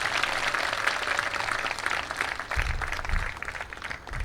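During a spiritual discourse at a religious festival gathering, a seated audience gives a brief round of applause, faint and somewhat distant, a soft patter of many hands.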